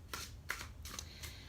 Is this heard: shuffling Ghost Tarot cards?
yes